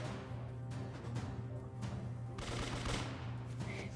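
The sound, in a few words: gunfire from a video game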